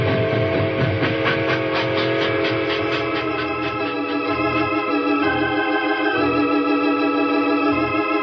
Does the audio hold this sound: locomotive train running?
yes